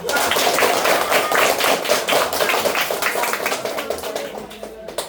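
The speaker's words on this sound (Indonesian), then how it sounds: "Kita sambut kelompok 6 dengan tepuk tangan yang meriah." A classroom of students applauds a group, a dense burst of many hands clapping close by, sustained for several seconds before tapering off, with no talk.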